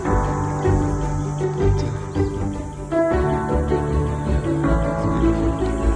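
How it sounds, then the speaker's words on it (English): A continuous high-pitched cicada whine, steady and droning, with a dense layered buzz beneath and occasional faint bird chirps. "That high-pitched whine you hear, those are the cicadas."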